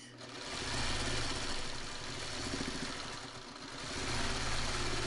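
A sewing machine stitches a quilt block with a steady, close, buzzing motor hum and rapid needle chatter that rises and falls slightly over several seconds.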